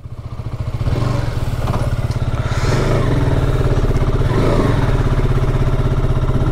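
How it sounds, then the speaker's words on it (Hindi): A cold motorcycle engine idles while warming up at night, a loud steady close-up chugging that builds slightly in the first second and then holds an even, rapid beat. "भाई, ठंडी है बाइक, चल कोई नहीं, गर्म हो जाएगी।"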